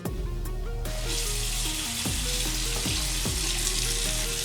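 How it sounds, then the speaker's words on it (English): Cold water runs from a household tap in a steady, close hiss and splash, with a tonal musical note wavering over it throughout. "I'm gonna turn the cold water on and see if it smells like rotten eggs"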